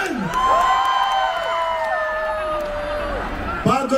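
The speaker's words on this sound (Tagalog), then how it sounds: "damang-dama namin ang lakas ng inyong mga sigawan" A large crowd at a political rally, the UniTeam Luzon miting de avance, cheers and shouts continuously, with loud drawn-out yells rising over a dense roar of voices.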